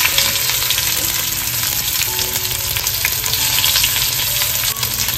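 Onion and green chili frying in hot oil for egg bhurji give a loud, continuous, dense sizzle with faint stirring underneath, steady throughout and free of talk.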